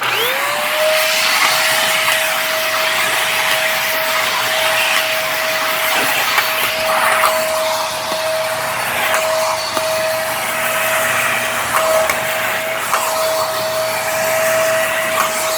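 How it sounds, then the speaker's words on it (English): An Aspiron corded stick vacuum cleaner runs close and loud, spinning up at the start and then holding a steady high whine with a constant airy roar throughout. "you can just pull it off and just let the vacuum take care of it"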